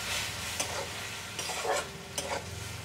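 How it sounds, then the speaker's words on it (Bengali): Spice paste of turmeric, chili powder and mustard paste frying in a pan as a spoon stirs it, a low steady sizzle broken by a few scraping strokes, close with no voices. "মশলাটা কষানো হয়ে গেছে"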